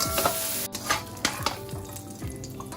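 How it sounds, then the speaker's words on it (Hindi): Chow mein ingredients with chicken stir-fry in a pan: a spatula scrapes and clatters against the metal in quick repeated strokes over a steady sizzle, close and lively. "ये इनको ये हल्का सा सिर्फ स्टर फ्राई करते हैं और उसमें ये चीज़ शामिल कर लेते हैं"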